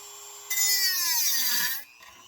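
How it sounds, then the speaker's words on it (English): A Dremel rotary tool cuts into a metal pot stand for a titanium mug, a high, close whine that rises sharply, holds for about a second and a half, then drops back to the tool's quieter spin. "plunging the Dremel in"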